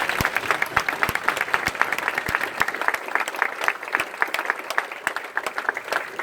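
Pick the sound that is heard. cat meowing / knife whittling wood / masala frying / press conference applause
press conference applause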